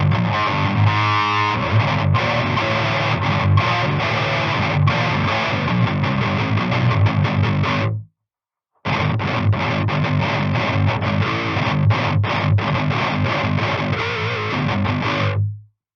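Heavily distorted electric guitar through an amp unit's built-in distortion plays loud, dense chords, cuts out briefly to silence, then resumes with the same fuzzy, saturated tone.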